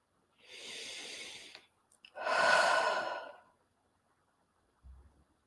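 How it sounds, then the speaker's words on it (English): Deep breathing in through the nose and out, two long airy breaths with a pause between, close and clear in a quiet room, followed by a faint low thump. "Inhale deeply through the nose, hold, then exhale slowly."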